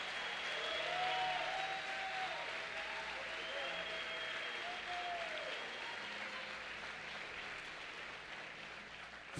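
A church congregation applauds in a steady, sustained wash of clapping, with some voices and a tone heard faintly underneath.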